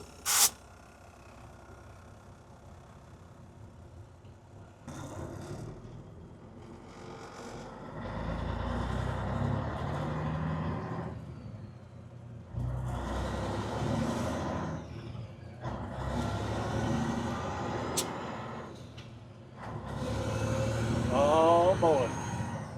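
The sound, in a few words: 1981 Peterbilt 359 truck engine running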